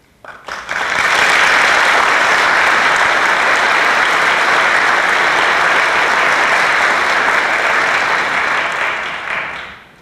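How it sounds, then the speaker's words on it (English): A large audience at a baccalaureate Mass for a graduation claps for a teacher, sustained dense applause rising quickly and holding loud and even for about nine seconds before tapering off. "I hope you're clapping for him because he deserves it."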